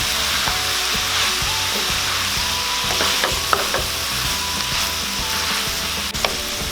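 Spoon stirring a beef cube into a simmering beef offal stew with bay leaves, a steady sizzle and bubbling with scattered clicks and scrapes of the utensil against the pot.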